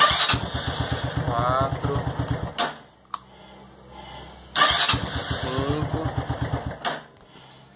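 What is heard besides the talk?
engine being cranked to start, testing a recovered battery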